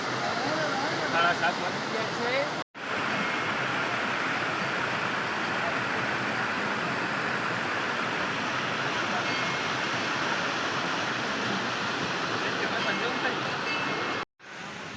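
A river flowing during the Girnar parikrama near Junagadh, giving a steady, loud broadband rush of water that fills the clip, broken by a brief cut near the start and another near the end.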